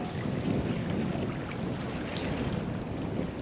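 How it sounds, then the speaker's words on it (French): Wind gusting across a sailing catamaran, an Outremer 55, riding at anchor, a steady low roaring rush with faint water movement beneath, constant in strength and with no voices. "j'ai une rafale, je vais donc attendre"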